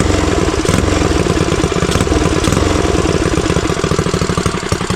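A custom Motovox mini bike's small engine runs loud and close, with a rough, rapid putter that holds steady throughout and has no talk over it.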